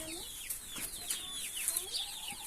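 Chicks peep in high, quick chirps over soft clucking from nearby hens in a two-section chick coop, a busy, continuous chatter at low volume.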